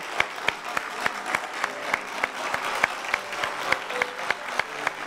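A live audience at a show claps steadily and loudly throughout, a dense, continuous applause with sharp individual claps standing out, with faint crowd voices mixed in.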